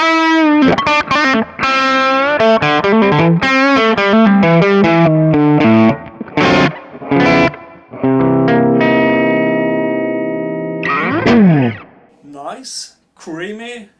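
Clean electric guitar through a Kemper profiler clean profile with no shapers or boost, playing a loud riff of picked single notes and ringing sustained chords that ends in a squealing slide, heard alone without talk.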